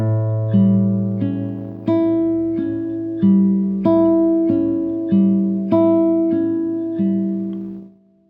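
Classical guitar fingerpicking exercise from Sagreras Book 1, lesson 55, played alone with clear plucked notes in an even repeating pattern over a sustained bass, ringing out and fading at the end.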